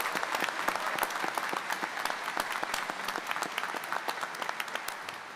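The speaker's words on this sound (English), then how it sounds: "If you would all join me in giving them a hand of applause." An audience at a Grand Lodge of California annual communication claps steadily, a dense, even wash of applause in a large hall with no voices standing out.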